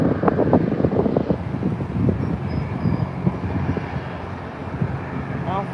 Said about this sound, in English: now taxiing for departure is American flight number 2141 heading to Miami on 737-800